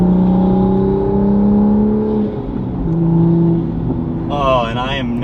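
A manual Toyota Supra fitted with an AWE exhaust pulls away at light throttle, its engine note rising in a smooth drone that climbs toward the end, while a person talks over the sound for most of its length.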